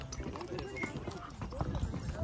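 Horses walk along on a Kashmir trail, their hooves clopping in an uneven rhythm under steady wind-like noise and close, continuous talking.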